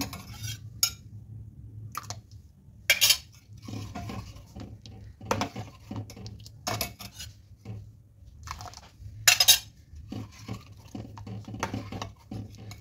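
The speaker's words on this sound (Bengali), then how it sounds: "এবার এটা ধীরে ধীরে আমি দুধের ওপর দিয়ে দেব। এবার নাড়াতে থাকবো।" A utensil scrapes and clinks against a pot as milk is stirred while vinegar water is added to curdle it, intermittent metallic clatters and soft rasping strokes over a low background hum.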